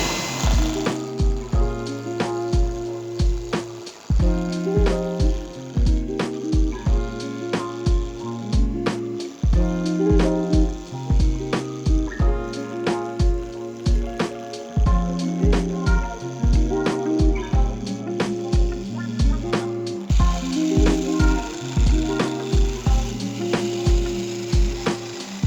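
Blocks of wood taped together spin on a lathe while being turned for an inside-out cake stand, giving a repetitive knocking, chattering rhythm with steady rotational thumps and scraping tool contact, close and fairly loud throughout.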